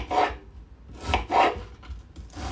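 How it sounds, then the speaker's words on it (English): Knife chopping onions on a cutting board for cabbage and kielbasa, with a few uneven, moderately close chops and short rubbing sounds between them and no talk. "I'm cutting these onions up real quick to put in the pan"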